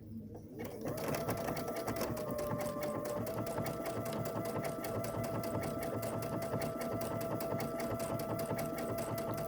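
A sewing machine stitches an appliqué owl pin cushion, running continuously with a fast, even mechanical chatter from start to finish, close and steady, with faint talking underneath.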